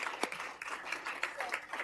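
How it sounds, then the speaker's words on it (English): An audience at a city council meeting gives a soft round of applause, with scattered, uneven claps at moderate distance over faint room murmur. "So let's give them a round of applause"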